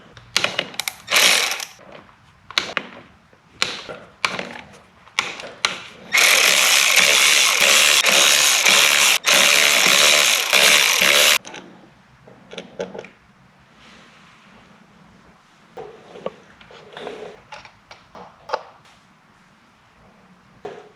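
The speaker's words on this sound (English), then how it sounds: "you're going to want to take these off in a crisscross pattern" Ratchet loosening motorcycle clutch cover bolts on a Nighthawk, working in a crisscross pattern; repeated close clicking bursts and clanks, with one long loud buzzing stretch of several seconds in the middle, no talking.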